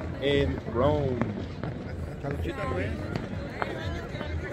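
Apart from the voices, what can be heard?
fireworks at New Year's in Rome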